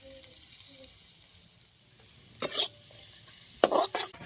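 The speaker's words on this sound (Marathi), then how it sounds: "पहिलं तर कांदा भाजून घेणार आहे." Onion dry-roasting in a very hot kadhai over a wood-fired stove, with two bursts of scraping stirring and crackling sizzle rising out of a quiet background.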